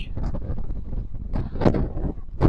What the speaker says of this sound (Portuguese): Olha o vento aqui no capim aqui